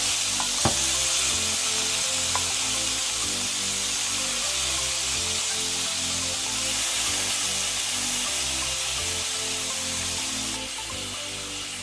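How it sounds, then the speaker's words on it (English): Bacon fries in a hot pot on the stove for Jamaican ackee and saltfish, giving a steady, loud sizzle that runs throughout with a couple of faint clicks and no talking. "First thing I'm going to do, I'm going to fry some bacon"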